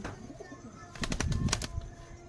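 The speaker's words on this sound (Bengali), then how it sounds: "পাকিস্তানি কবুতরের বাচ্চা" A quick burst of fluttering and soft cooing from Pakistani pigeon chicks, close by, against a quiet background.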